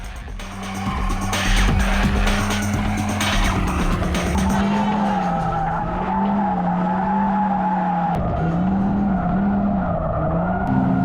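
A 620 hp Audi with a 7-speed DSG gearbox accelerating hard on a track, its loud engine note rising and holding, with tire noise and squeal early on.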